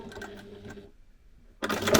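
A sewing machine basting a seam about an eighth of an inch along the edge of fabric, in two short bursts of fast, even stitching separated by a brief pause, close and clear with no talk.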